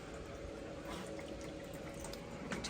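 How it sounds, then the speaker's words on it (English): Soft, continuous trickle of an indoor water fountain running, faint and steady with occasional light splashes. "I'm gonna turn off all these water fountain that I can hear now."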